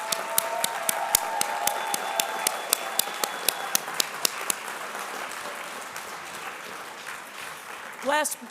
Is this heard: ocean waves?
no